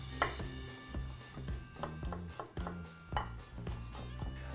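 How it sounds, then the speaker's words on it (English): A knife chops garlic on a cutting board in a steady run of sharp, close taps, several strikes in quick succession with brief pauses between bursts. "So I roughly chop it."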